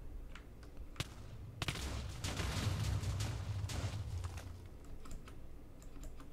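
TNT detonating in Minecraft Pocket Edition with a realistic mod, a burst of loud crackling blasts that start abruptly and roll on as a dense, rumbling barrage before tapering off.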